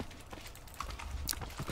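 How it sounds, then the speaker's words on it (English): A horse in the Minecraft video game, heard as a few soft game-style hoof clip-clops at moderate distance, with faint background game noise and no talking. "I have a horse."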